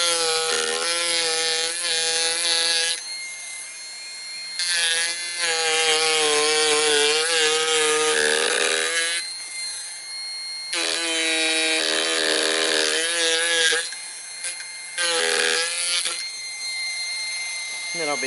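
An electric power chisel carves eyes into a wooden owl, a loud buzzing rasp that runs in long bursts broken by short pauses as the tool lifts off the wood.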